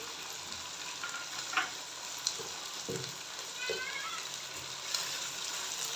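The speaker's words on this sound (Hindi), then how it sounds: "अभी चिकन को टमाटर और मिर्चों के साथ फ्राई करेंगे थोड़ा सा।" Chicken sizzles gently in a pan with tomatoes and sliced green chilies for a cauliflower and meat curry, a steady soft frying hiss broken by a few light stirring knocks, with faint talk now and then.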